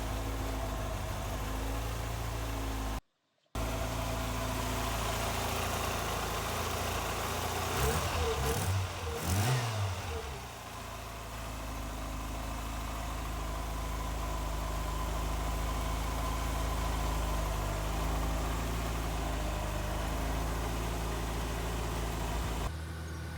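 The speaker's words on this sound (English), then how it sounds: "Sounds pretty sweet, the little engine." A Mk3 Ford Escort RS1600i idles steadily on its first start, a low, even engine hum with a brief dropout early on and a short burst of rattly revving partway through before settling back to a smooth idle.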